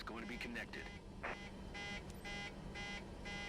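Cockpit warning beeping in Microsoft Flight Simulator 2024 while the engines or APU are off on an airliner, a faint regular series of short electronic beeps repeating at a steady pace after brief speech.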